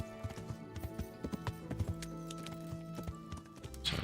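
Horse hooves clip-clop in a steady, close walking rhythm in the medieval video game Kingdom Come: Deliverance, with a faint background music bed beneath the hoofbeats.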